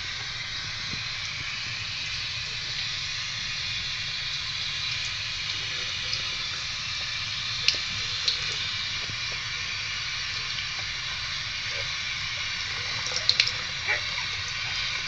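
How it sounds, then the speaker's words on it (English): Tap water runs steadily onto an Xbox 360 game disc held under a faucet, a constant close hiss of flow with a few faint drips and small knocks near the end. "I would still run it under the water just to make sure, and do the top side too"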